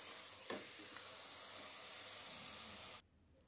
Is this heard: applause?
no